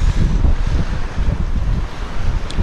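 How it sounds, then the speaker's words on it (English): Strong gusts buffet the microphone at a harbour, a continuous rumbling roar of wind with surf-like wash behind it and no voices. "that wind's a pain in the butt"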